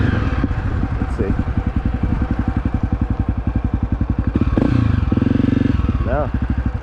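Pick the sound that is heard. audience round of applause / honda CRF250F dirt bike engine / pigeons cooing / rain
honda CRF250F dirt bike engine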